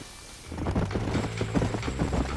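Horse hooves in the Red Dead Redemption game set in Mexico clip-clop in a quickening rhythmic trot, close and fairly loud, with no voices.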